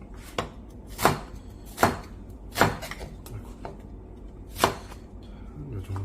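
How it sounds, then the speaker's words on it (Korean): A knife cuts an onion into thick strips on a board, prepared for a spicy stir-fried squid dish; about six sharp, separate chops land at uneven intervals over quiet background noise, with no talking. "양파도 조금 크게 채를 썰어 주시는 거예요"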